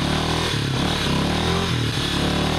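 A motorcycle engine labors and revs loudly and up close while riding a deep muddy dirt road between Lembe-Yezoum and the surrounding area in Cameroon, with rattling clatter from the rough track.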